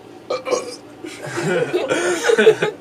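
A short, gurgling burp close by, followed by a second drawn-out belch, with some soft vocal chuckling around it.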